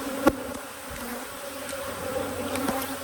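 Honeybees buzzing during a hive inspection, a close, continuous droning hum with individual bees passing near and a sharp knock early on.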